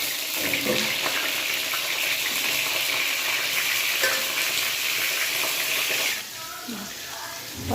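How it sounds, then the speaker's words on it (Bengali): Pointed gourd fries in mustard oil in a hot kadai, a loud, continuous close-up sizzle with faint stirring that drops off sharply near the end. "পটলগুলো হালকা একটু ভেজে নেব।"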